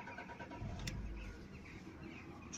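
A Lada Vesta with an oil pressure sensor fault cranks and catches after a slightly long start, a short low rumble swelling then settling into a quiet idle, heard up close and faint.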